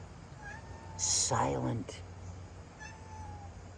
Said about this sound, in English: He's a black cat